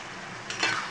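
Dried lotia fish stir-fried with onion, garlic and green chili sizzles steadily in a pan, with a brief scrape of stirring swelling up near the end of the short moment.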